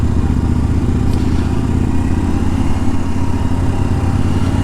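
A Royal Enfield Scram 411 motorcycle engine runs steadily while riding in a cruising gear, a loud, continuous low rumble with constant wind and road noise and no gear changes.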